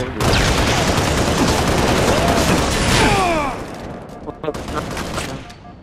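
Rifle fire in a Halo Reach team slayer match, a dense burst of rapid shots and booms over busy game noise that thins out after a few seconds.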